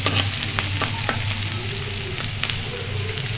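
Chopped onion, chili and garlic sizzle steadily in a hot pan, a continuous close frying hiss broken by a few sharp spatters and stirring scrapes, with a low hum underneath.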